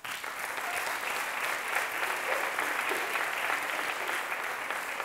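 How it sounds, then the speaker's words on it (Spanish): An audience applauds at an outdoor town hall pride ceremony, steady dense clapping from a crowd, even and sustained throughout with no voices over it. "Aplausos."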